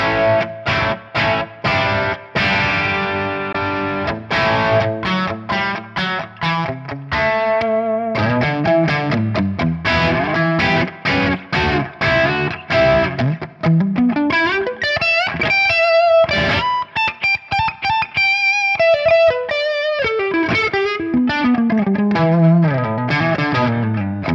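Overdriven electric guitar through a TONEX X-Stasy 35 D amp model at the first gain level on the N setting, playing a run of chords and single-note riffs, gritty and crunchy with some echo, loud and continuous with no talking.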